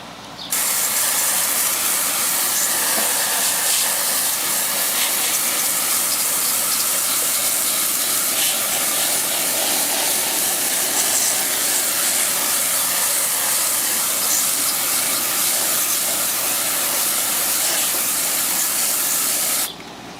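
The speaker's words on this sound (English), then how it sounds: "I'm just spraying through the back with the hose" A garden hose sprays water through the back of a Sharp air conditioner, a loud, steady hiss of spray against the metal fins that runs nearly unbroken for about twenty seconds.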